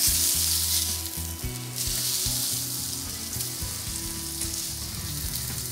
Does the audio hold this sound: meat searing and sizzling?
yes